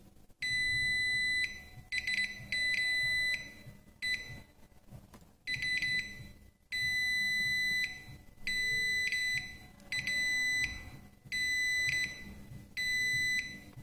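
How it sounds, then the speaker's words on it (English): Continuity tester beeping while its probe touches each commutator segment of a starter motor armature, giving a regular series of loud, high-pitched electronic tones in bursts of about a second with short gaps, close by, with no talk. "this is how you test continuity of the commutator segments"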